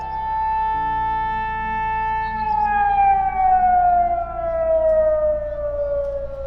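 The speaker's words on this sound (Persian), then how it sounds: "صدای آژیر در لس آلاموس شنیده میشه" An air-raid siren at Los Alamos wails on a sustained tone that slowly falls in pitch, sounding loud and alone over a low rumble.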